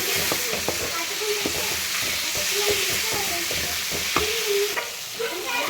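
Egg rice fries in a pan with carrot and beans, a steady loud sizzle overlaid by rhythmic scraping and tapping of a spatula stirring throughout.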